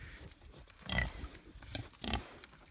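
A pig on an off-grid homestead grunting and oinking in a few short bursts, close but fairly quiet, with light outdoor background noise and no talking.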